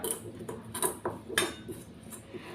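Aloe vera water being stirred into a mixture in a bowl for a homemade herbal hair dye, heard as soft scattered clinks and scrapes of a utensil against the bowl, faint and close.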